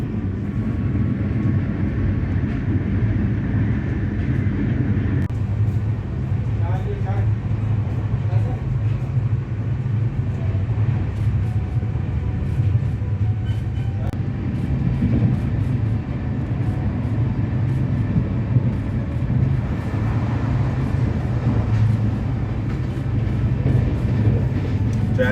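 Steady low rumble of a Kalka–New Delhi Shatabdi Express passenger train on the move, a continuous loud hum and rattle throughout, with faint talk at times under the running noise.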